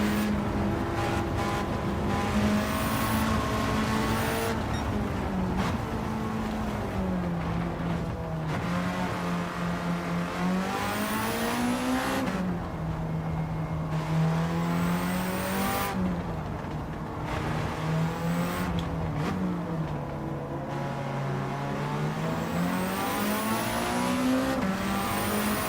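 Race car engines in Gran Turismo 7 roar steadily for the whole stretch, their pitch climbing and dropping through repeated gear shifts, with brief tire squeals and no talking.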